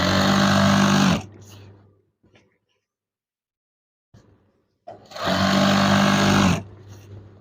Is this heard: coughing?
no